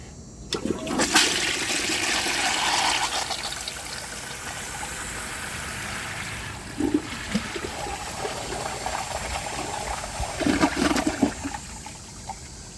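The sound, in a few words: 1934 Bowers Pottery toilet flushing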